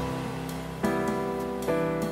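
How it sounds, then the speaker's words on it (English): An electric fan runs indoors with a steady, droning motor hum that stays constant throughout, with a couple of faint soft knocks in the room and no voices. "You guys probably can hear the sound of a fan in the background."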